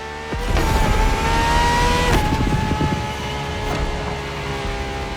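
A Ferrari LaFerrari petrol-electric hybrid in The Crew Motorfest racing game roars loudly as it accelerates, its engine note climbing through gear shifts with a steady high-revving drone close up.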